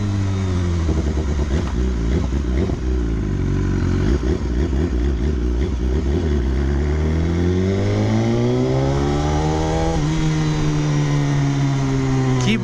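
A customized 2019 BMW S1000 sport motorcycle revs loudly and close, its engine pitch dropping and then sweeping up again in repeated throttle blips over about thirteen seconds, with no one talking.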